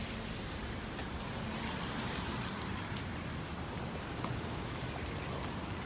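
Steady rain falls continuously around a new Jeep Wrangler Sahara Unlimited with an 18-inch wheel setup and soft top, a soft even patter with no voices.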